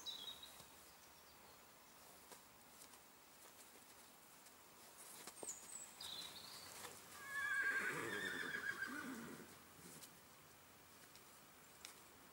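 A spooky mare, head-shy after abuse, gives a high whinny followed by a longer neigh at moderate distance, with faint hoof sounds and quiet background, no talking.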